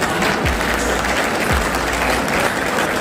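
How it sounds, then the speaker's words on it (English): A crowd claps in sustained applause at a community fundraiser in Sydney, a dense steady wash of hand claps filling the room without any voices on top. "Big round of applause."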